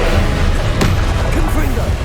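A Confringo fire spell blast in Hogwarts Legacy during a boss fight: a loud, dense rush of crackling game noise with one sharp impact near the middle, continuous and close throughout.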